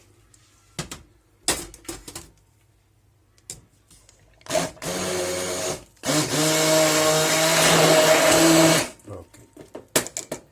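An electric mixer whirs in short bursts and then in a longer steady run of several seconds, blending cheese spread with butter; a brief spoken word comes between the bursts.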